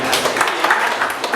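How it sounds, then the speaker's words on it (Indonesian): A class of students claps together during a school religious lesson, a brief burst of dense, steady applause with voices mixed in. "tepuk tangan dulu dong"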